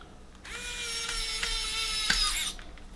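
A screwdriver drives screws into a toy Christmas Sweet Train, giving a steady, moderately quiet whine that lasts about two seconds with a small click near the end.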